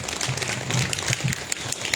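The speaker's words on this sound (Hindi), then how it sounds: "एक बार इनके लिए फिर से जोरदार तालियां हो जाएं।" An audience claps at a Seva Bharati cultural programme during a study camp, scattered applause in an open setting, moderately loud with rough, uneven bursts of claps.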